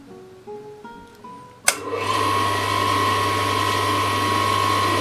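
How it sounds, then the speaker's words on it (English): A PP-U3 drill grinding machine grinds one side of a drill bit. A few soft mechanical clicks and notes come first, then a sharp onset into a loud, steady whine with a low hum that holds to the end. "So we will start to grind one side."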